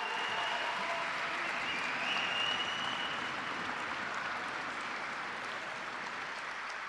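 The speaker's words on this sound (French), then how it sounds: "Merci d'applaudir très très fort Christophe Sapé et ses équipes." A large audience at an autonomous robo-taxi world premiere show claps in sustained, dense applause that holds evenly throughout, with faint crowd noise underneath.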